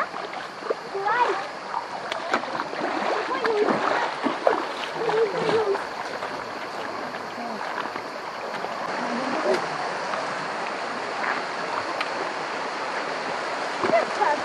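A mountain stream near a waterfall on a walk to a dolmen village in Pshada rushes steadily, with splashy water noise throughout and people talking intermittently over it.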